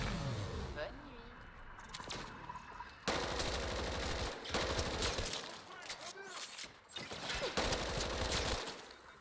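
Rapid automatic gunfire in the video game Mass Effect Andromeda, dense bursts of shots with brief pauses between them, loud and close, with a voice talking over parts of it.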